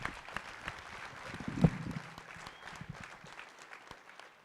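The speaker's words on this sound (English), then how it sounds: "How about another round of applause for all these amazing teams?" Audience applause at a regional student startup challenge event, a broad sustained patter of many hands clapping with no speech.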